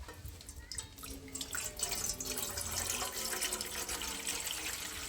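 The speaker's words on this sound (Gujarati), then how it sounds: "તો એ વાસણમાં આપણે નાખશું પાણી." About a glass of water is poured into a cooking vessel for a soya chunk curry, a close trickling and splashing pour that grows fuller and steadier as it fills.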